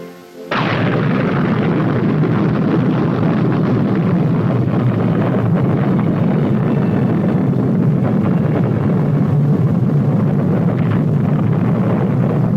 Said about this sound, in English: the most terrible of all the weapons that man has ever built, the H-bomb, was detonated at Eniwetok.